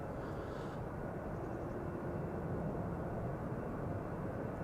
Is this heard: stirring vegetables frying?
no